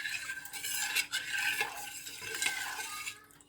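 Jars of beetroot simmering in a covered preserving pot, a close, steady rushing bubble and hiss with soft rattles and clinks throughout, no voices.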